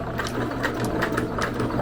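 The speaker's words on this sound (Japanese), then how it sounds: "ミシンで縫っていきたいと思います" Sewing machine stitching scrap fabric for a handmade cat collar, a steady close whirring hum with rapid repeated needle clicks running through the whole stretch.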